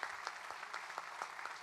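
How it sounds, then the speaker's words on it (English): An audience applauds at a Friday night live Opry stage show: steady, fairly soft clapping from many hands, with individual claps popping out of a dense wash, and no talking over it. "I would like you to applaud all of those folks"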